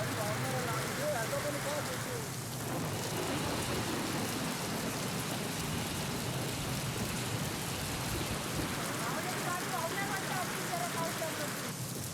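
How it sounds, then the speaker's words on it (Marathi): Steady, dense downpour of heavy monsoon rain in Ratnagiri hissing continuously throughout, with a faint voice murmuring underneath at times. "मुसळधार पावसामुळे रत्नागिरीला झोडपून काढलेलं"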